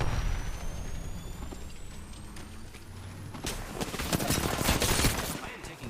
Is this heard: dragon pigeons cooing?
no